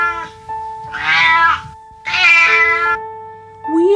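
Cartoon-style cat meows from a children's story about a thousand cats: two long, loud, harmonic mewing cries, each about half a second, over a steady tone, with no talking.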